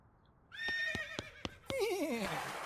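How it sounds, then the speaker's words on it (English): A horse neighs in the West of Loathing video game, a bright whinny with a wavering, descending tail ending the clip, preceded by a few sharp clicks and tones of game music. "It's your new horse, Poop Apples, right?"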